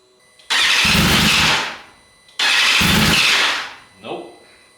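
A wrecked 2022 BMW S1000RR sportbike's starter cranks in two long, loud bursts of about two seconds each without the engine catching, followed by a short fainter rattle.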